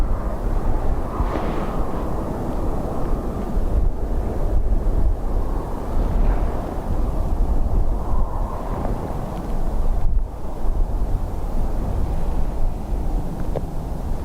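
Wind gusts across a microphone at Dublin Airport on a blustery day, a continuous low buffeting rumble that surges and eases unevenly throughout, with no voices heard.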